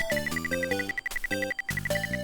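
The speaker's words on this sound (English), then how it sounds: "the chiptune music that comes straight from the TurboGrafx-16" Bouncy retro chiptune melody from the TurboGrafx-16 sound chip, from Ys Book I & II, with bleepy square-wave notes over a steady high pulse, lively and fairly quiet, no talking.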